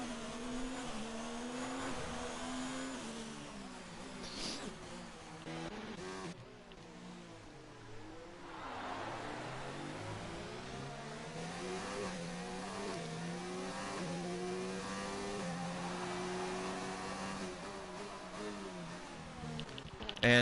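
Ferrari race cars in a racing video game at the Singapore Grand Prix drone past with a steady, fairly faint engine whine that rises and falls in pitch as they accelerate and shift.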